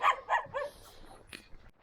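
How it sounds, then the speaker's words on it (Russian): Dogs guarding a yard in the old wooden Zalog district of Yakutsk bark outdoors, three sharp barks in quick succession at moderate distance followed by fainter, scattered yips trailing off. "О, собачки. Тут местные охранники вот гавкают, охраняют."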